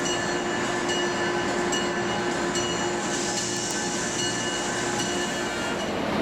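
A train runs in the Trainz railroad simulator game, a continuous steady rumble with a sustained tonal hum and faint rail clatter throughout, no voices.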